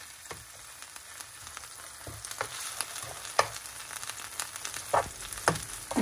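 Garlic ginger chutney frying in desi ghee in a frying pan, a soft steady sizzle punctuated by irregular clicks and scrapes of a spoon stirring, fairly quiet and close, with no talking.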